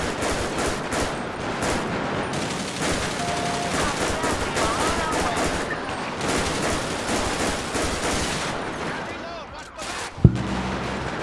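Sustained gunfire fills a police shootout in GTA 5 with the LSPDFR police mod: dense, rapid volleys of automatic weapons crackle continuously at high volume, ending in one sharper standalone shot.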